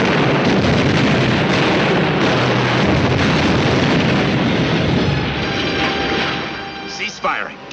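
Heavy gunfire and an explosion hit a German Panther tank in a 1951 war film battle scene, a dense, loud, continuous roar of blasts and bursts that fades toward the end, with shouted voices mixed in.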